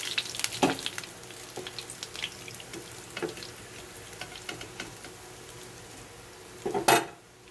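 Pomfret fish frying in hot oil in a pan, a soft steady sizzle with scattered crackles and a few utensil clinks, louder bursts near the end as pieces are shifted or lifted.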